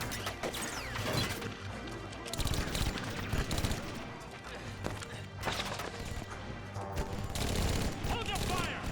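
Film battle scene with bursts of rapid gunfire and automatic weapons, crashes and impacts mixed in, loud and continuous, with shouted voices in between.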